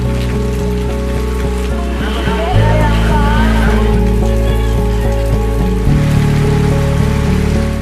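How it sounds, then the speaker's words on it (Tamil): Heavy rain falling in Kodaikanal, a steady dense patter on surfaces that runs the whole time, mixed with a constant background hum and faint tonal sounds. "கொடைக்கானலில் கனமழை வெளுத்து வாங்கியதால் சுற்றுலா பயணிகள் தவித்தனர்."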